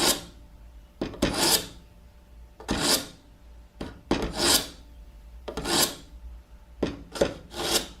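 A knife blade drawn repeatedly through the polishing slot of a sharpener, about eight rasping strokes spaced a second or so apart, close and clear, with no talking.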